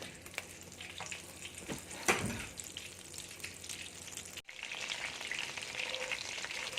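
About two tablespoons of butter melting in a hot pan for fried rice, a soft continuous sizzle and crackle with a couple of brief clatters partway through, fairly quiet with no voices.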